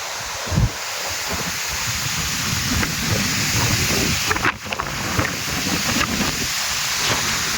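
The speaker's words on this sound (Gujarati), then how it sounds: "પવન એવો આવ્યો હોય જબરદસ્ત" Strong gusting wind from a sudden storm with rain, blowing hard and steadily as a broad roar with buffeting against the microphone, with a brief dip midway.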